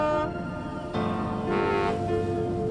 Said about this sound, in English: Just then, they heard some loud honks and whistles.